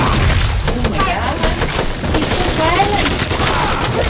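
Gunfire in the animated series Invincible, with loud, dense bursts of shots and booms mixed under voices that talk throughout.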